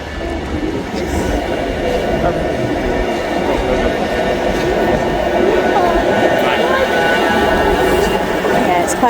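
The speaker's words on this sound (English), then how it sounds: "Here's the tram." A city tram pulls in and runs with a continuous low rumble and rolling hum, close and loud throughout, while faint voices of passengers talk underneath.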